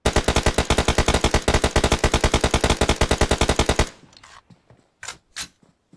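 Rapid automatic gunfire in a video game rattles out in a loud, fast, even burst for about four seconds, then cuts off. A few scattered quieter shots and clicks follow.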